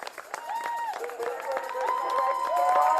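A crowd cheers, claps and whoops as a finisher of the Parish Walk arrives, growing louder and fuller over the few seconds, with whistles and shouts rising above the applause.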